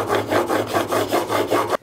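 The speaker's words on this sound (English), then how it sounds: "I'm gonna go ahead and just go through all the different stones 100 times with the micro bevel that I've created" Plane iron with a micro bevel being honed on a series of sharpening stones: steady back-and-forth rasping strokes, about eight even rhythmic passes, close and fairly loud, with no talk.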